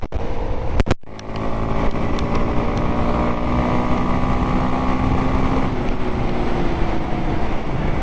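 A Kawasaki KLX230 dirt bike engine pulls steadily in fifth gear while riding, a continuous buzzing drone with wind rush, after a brief gap near the start as the gear changes.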